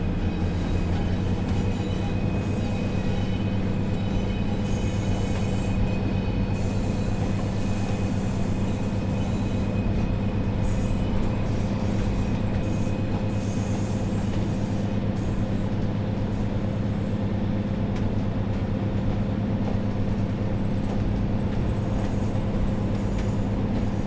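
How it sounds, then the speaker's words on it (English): A train in Train Sim World 4 rolls steadily with a loud, constant drone of motor and running gear and a faint hum, continuing without a break and with no talking. "This train is very loud."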